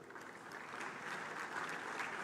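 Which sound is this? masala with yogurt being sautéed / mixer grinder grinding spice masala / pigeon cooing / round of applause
round of applause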